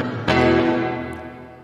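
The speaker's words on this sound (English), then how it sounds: "And now with the reverb applied." A single guitar chord is struck and left to ring, with digital reverb applied in Python using the Pedalboard library, its sound washing out into a long, spacious reverberant tail that slowly fades.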